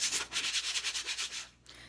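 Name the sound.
sanding a piece of wood by hand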